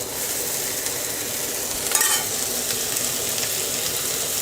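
Beetroot and onion sautéing in a pan give a steady, close sizzle with a brief scrape of stirring near the middle.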